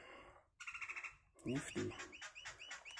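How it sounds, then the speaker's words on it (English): A bird calls outside a shed in a short series of rapid chirping notes, with a person speaking briefly nearby before the calls. "You may be able to hear a bird in the background there."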